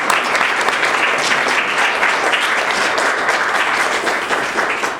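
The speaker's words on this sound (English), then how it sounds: "Please welcome him to the podium with applause." A lecture audience claps steadily to welcome Professor Tom Killian to the podium, a dense, loud wash of many hands that holds for several seconds before tapering slightly.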